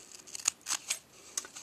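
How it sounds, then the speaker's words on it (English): Scissors snip along fabric edges in a small craft project, several short, crisp cuts in an uneven rhythm, close and fairly quiet with no talking. "just take my scissors and trim right up on the edges"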